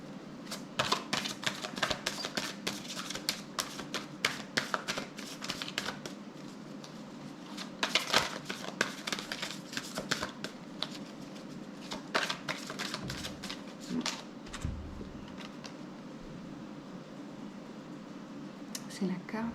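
Oracle cards shuffled by hand in a steady run of crisp riffling and sliding bursts, close and moderately loud, with a low background hum throughout.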